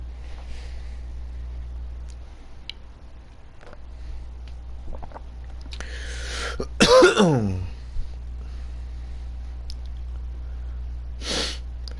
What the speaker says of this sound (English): I hate coughing during the stream.